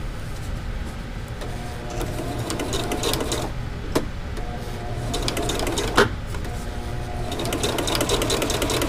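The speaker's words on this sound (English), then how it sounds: "I'm going to sew just a couple of lines back and forth here to hold it on" A sewing machine stitching fabric for a camp chair underquilt, a loud continuous whirring hum close up with a couple of brief clicks as the stitching backs and forth, no talking.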